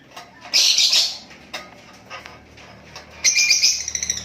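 Bird chirping inside a bird carrier, a green Ewing crossbreed being moved toward a breeding cage: bright, close chirps and squawks in two loud bursts separated by quieter rustling, with no talking.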